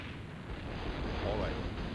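Heavy rumbling explosions from bombs in the video game Silent Bomber roll together into a continuous loud blast, with a dense, booming roar that swells slightly toward the end.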